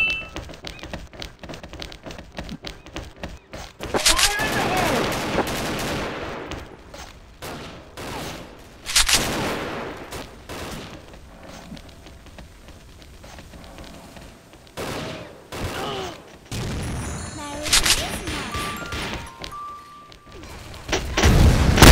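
Gunfire and explosions from a bombing operation in an online video game, with bursts of shots and heavy booms coming in clusters across the clip, loud and dense at several points, with sparse talk.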